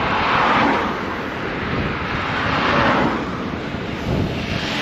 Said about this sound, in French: Voilà, il y a du vent.